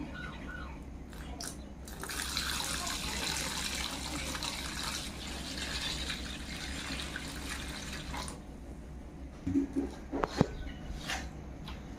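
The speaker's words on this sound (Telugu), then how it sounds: "వాటర్ వేసుకుందామండి" Water pours steadily into a bowl of mustard powder mix for mango pickle, a soft close splashing stream for several seconds, followed by a few faint clinks and knocks.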